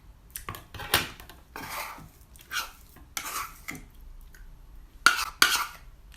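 A spoon mixing chocolate with a spoonful of honey in a bowl, producing repeated close scraping and clinking strokes in irregular bursts, with two sharper clinks near the end and no talking.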